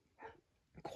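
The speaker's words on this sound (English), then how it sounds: "Sorry about my dog in the background." A dog in the background lets out a short yip or bark, brief and fairly faint, with a voice speaking over it.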